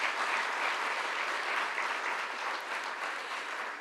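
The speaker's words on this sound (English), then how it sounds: "please give every single member of the IBM community here a round of applause" Steady applause from an audience at the IBM Research-Africa Labs 10th anniversary event, a dense continuous wash of clapping at moderate distance, holding evenly throughout.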